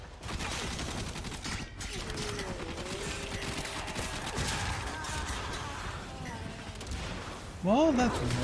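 Missiles and gunfire blast through a Warframe battle, a dense, continuous barrage of rapid shots and explosions, loud and close, with sharp mechanical effects near the end and a voice talking underneath.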